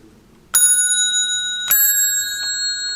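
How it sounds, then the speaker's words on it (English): The electric bell of a Russian telephone, adjusted so the clapper does not rest on the gong, gives two bright metallic tings about a second apart. Each ring hangs and decays slowly, with a fainter tap after the second, against quiet background noise. "so the bell tings without the clapper resting on the gong"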